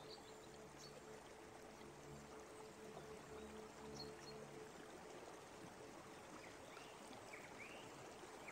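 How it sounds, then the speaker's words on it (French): Forest stream of running water, a steady broadband rush and trickle, faint and continuous throughout with no voices. "Au cœur de la forêt, il y a un cours d'eau qui passe."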